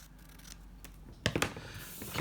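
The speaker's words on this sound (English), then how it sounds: "And then trim the excess off." Scissors snip through excess patterned fabric or paper while ephemera is made for a handmade inspiration journal, with a few quick, close cuts and light rustling of the material.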